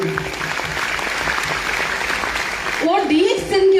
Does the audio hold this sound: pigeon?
no